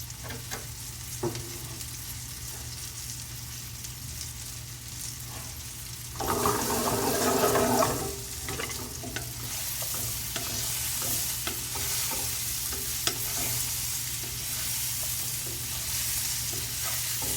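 Okra and onion being gently stirred as they fry in a pan for stuffed okra, a continuous close sizzle with soft spatula scrapes, swelling into a louder burst of hissing midway before settling back to a steady fry.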